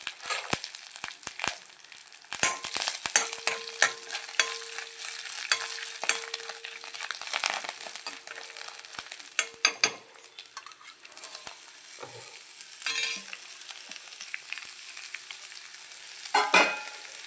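Curry leaves sizzling and crackling in hot oil while a curry is cooked, with sharp spitting pops and bursts over a steady frying hiss and occasional stirring, close and fairly loud with no talk.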